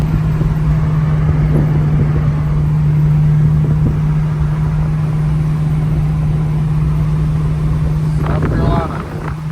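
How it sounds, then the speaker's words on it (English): A Ford Mustang drives along a backwoods road in the Appalachian Mountains, giving a loud, steady engine drone and road rumble throughout, with a faint voice briefly over it near the end. "Just driving through some backwoods right now."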